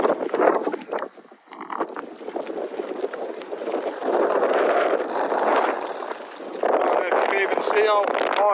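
Strong wind at Winnats Pass in the Peak District buffets and roars against the microphone throughout, a steady rushing noise with gusts, and a voice is heard briefly near the end.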